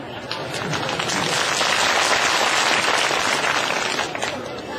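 Sustained applause from a gathered audience at a public meeting in Himachal Pradesh, dense and steady throughout, swelling slightly and easing off near the end.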